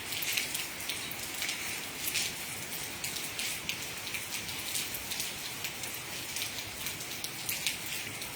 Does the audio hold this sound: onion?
no